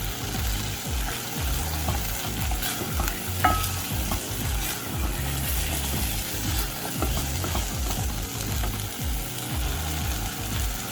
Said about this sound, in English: Now you're going to be adding the sliced chilies.